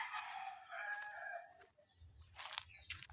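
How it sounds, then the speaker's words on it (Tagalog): Backyard chickens and a rooster near a home are heard: a rooster crows once, fairly close, followed by softer clucks and scratchy rustling, quiet overall. "Nandito yung ating mga manok."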